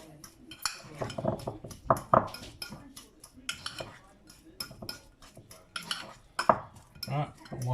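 Garlic butter and chopped basil being mixed in a bowl, with a utensil scraping and clinking against the sides in an uneven run of close, sharp knocks.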